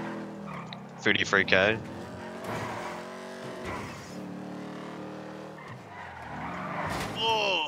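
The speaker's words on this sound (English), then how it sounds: "I pressed the handbrake too early." Video game car skidding after an early handbrake pull, engine roaring with tire squeal and screeching bursts, heard under people talking.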